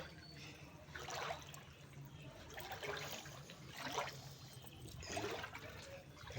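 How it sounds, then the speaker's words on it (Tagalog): Floodwater runs through a submerged shop, a faint steady trickling and gurgling with soft surges of flowing water at a distance, no talking. "talagang malaki na guys"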